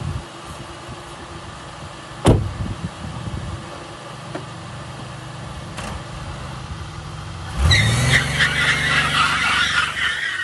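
A derby car's engine idles and revs, then from around the middle a loud, broadband roar of spinning tires and engine builds and holds to the end, close by; a few sharp knocks come earlier.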